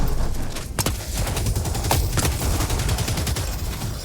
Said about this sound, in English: what about proper orky zap guns? You know, cannons what shoots big old lines of shocky docker. You know, like the shock rifle